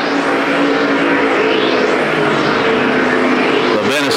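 Street stock race cars roaring around the Perris Auto Speedway track, a loud, dense engine drone with rising and falling pitch sweeps as cars pass, and a sharp change at the end.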